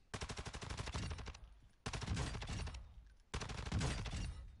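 Three long bursts of rapid automatic gunfire from a high fire rate weapon in Call of Duty DMZ, each a dense stream of close, loud shots separated by brief pauses.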